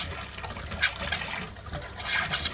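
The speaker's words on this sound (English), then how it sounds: "So what we want to do is try and get water out as much as we can in the lines. This may spit a little bit." Water spits and sputters from the lines of an R-Pod RV being drained for winterizing, a few irregular gurgling bursts and splashes over a faint trickle, close by with no voices.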